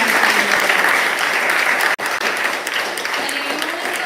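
A live audience applauds at a memorial celebration of a poet's life, dense steady clapping filling the room for several seconds with a brief dip midway.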